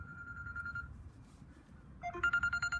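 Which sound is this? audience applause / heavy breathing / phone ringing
phone ringing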